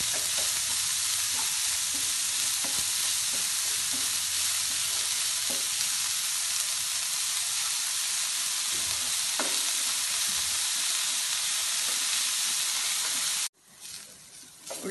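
Sliced onions with a pinch of salt sauté in a pan, giving a dense, loud, continuous sizzle broken by regular spatula scrapes and taps, then cutting off abruptly near the end.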